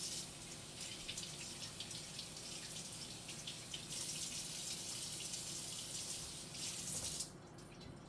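Water runs from a kitchen tap to wash mushrooms, a steady, fairly quiet hiss and splash that shifts slightly as the flow changes, then drops away near the end, with no talk.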